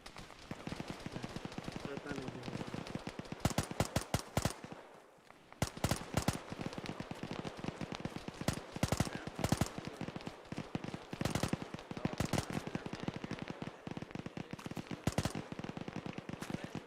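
Machine gun fire in the military video game Arma, rapid sharp bursts repeating steadily for the whole stretch with one brief pause near five seconds, dense and fairly close, with faint voices underneath.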